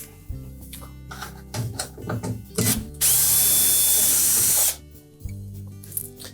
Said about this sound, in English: we're going to remove the screws that secure the outer panel to the inner panel